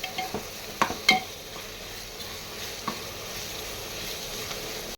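A spoon stirs a ghee rice mixture in a pan, giving a few sharp scrapes and clinks early on over a steady low sizzle.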